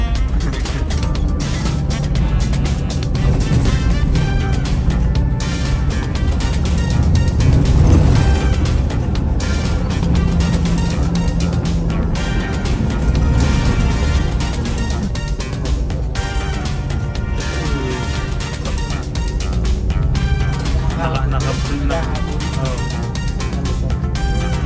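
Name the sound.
Nissan Diesel airport limousine bus engine running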